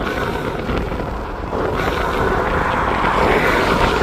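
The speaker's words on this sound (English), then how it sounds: "from the front of the engine bay, you actually now hear the air being sucked in" An Audi RS6 Performance with an Eventuri intake draws in air from the front of the engine bay, a steady broadband rushing whoosh with a low rumble underneath, continuous and fairly loud throughout.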